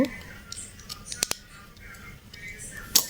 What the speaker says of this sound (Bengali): ঠিক একইভাবে আমরা দ্বিতীয়টির নাট লুজ করব